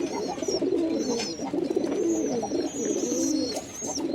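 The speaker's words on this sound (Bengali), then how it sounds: "সুন্দর জোড়া দিয়ে দিলাম সবগুলো কবুতরকে।" Pigeons coo in soft, rolling throaty phrases, several birds overlapping close by, with faint higher chirps flickering above.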